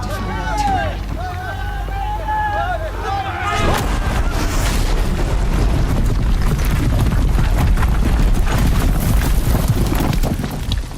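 Heavy guns in the game Horizon Zero Dawn open fire in a barrage of booming blasts and battle chaos after a few seconds of shouting voices, staying loud and dense to the end.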